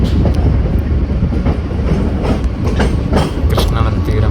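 Onboard passenger train 67769 running from Vijayawada to Guntur along the Krishna river: a loud, steady rumble with rhythmic clickety-clack of wheels over rail joints throughout.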